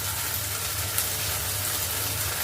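Spice paste with a little salt frying in a pan for malai paneer: a steady, close hiss of sizzling oil, even and continuous with no talking.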